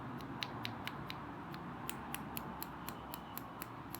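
The plastic joint of a BoBoiBoy Nova action figure clicks about a dozen times, sharp and faint but close, in a fairly steady rhythm with no talking.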